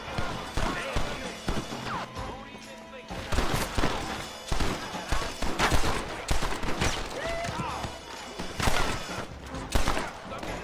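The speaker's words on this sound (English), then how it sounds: "The shooting is a little archaic in this game, but it is fun." Rifle shots from a video game come as repeated sharp cracks, several in quick succession over a busy, dense game soundscape, with a person talking throughout.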